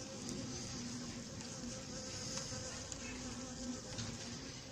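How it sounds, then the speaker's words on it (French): Insects buzzing continuously at an apiary, with a hornet inside a plastic bottle trap; a steady, moderately close droning hum runs throughout with no voices. "Là, il y a un frelon qui vient d'entrer dans la bouteille"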